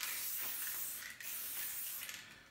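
A spray paint can hissing onto a street art stencil, a close continuous aerosol hiss in a few bursts, with a brief break midway.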